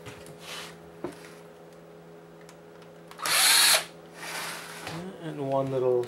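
A power screwdriver backs small Phillips screws out of a PS4 console during a teardown, giving a couple of short, close whirring bursts, with a voice speaking around them.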